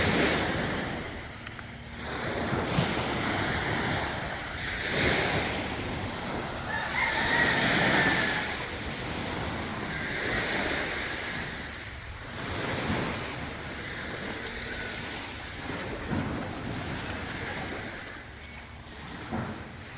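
Ocean waves breaking and washing up on a beach that has been heavily eroded and strewn with trash, a steady loud surf roar with rolling swells and wind buffeting the microphone, no talk.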